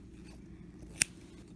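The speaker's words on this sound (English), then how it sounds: "Get down to the end of the string, then cut it" Scissors snip through pom-pom string once, a single crisp close-up cut in an otherwise quiet room.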